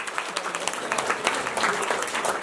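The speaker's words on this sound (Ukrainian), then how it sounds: "Оплески, будь ласка, для наших дорогоцінних батьків." Guests at a Ukrainian wedding applauding the parents, a dense, lively burst of clapping from a crowd in a hall, loud and continuous without pause.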